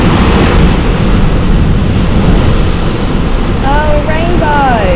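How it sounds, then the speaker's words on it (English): Large ocean waves crash and roar against the cliffs at Devil's Tears on Nusa Penida, a loud continuous rumbling wash with wind buffeting the microphone and a brief voice near the end. "it feels so nice having the mist just like come onto me when the waves crash"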